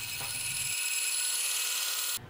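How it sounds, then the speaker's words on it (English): A bandsaw cuts a fist shape out of a piece of wood, a steady high buzzing rasp that holds for about two seconds before the cut ends. "Then use a bandsaw to cut the shape out of the wood."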